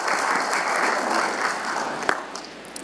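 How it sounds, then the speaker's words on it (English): Audience applause for an award winner at a leadership and service awards ceremony, a steady wash of clapping filling the room for a few seconds and thinning toward the end. "Let's give Bonnie a round of applause, please."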